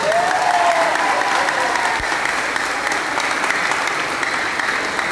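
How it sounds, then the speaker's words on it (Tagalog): Loud, sustained applause from a large crowd of about 250 people at a relief operation in Calumpit and Marilao, Bulacan, steady for the whole stretch, with a brief faint voice near the start. "malakas kayo pumalakpak, gawin kong 20."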